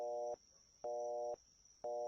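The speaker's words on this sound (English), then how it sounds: "I'll just hit the redial button on my phone." Phone line tone heard after pressing redial, a repeating harmonic beep pulsing on and off in even half-second bursts, three cycles, clear and steady against a faint background whine.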